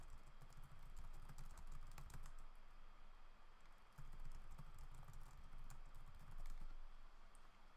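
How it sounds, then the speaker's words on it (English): Several people type on computer keyboards during an online screenwriting class, producing steady soft rapid clicking with overlapping keystrokes and no pauses. "Looks like we have a few folks typing"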